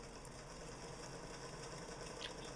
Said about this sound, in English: Now just sew a line of stitches where you made your mark.